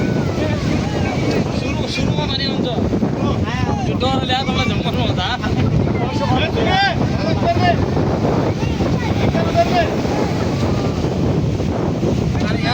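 A boat churns through the sea off a city beach, with loud wind buffeting the microphone, splashing and sloshing throughout, while people talk and shout over the noise.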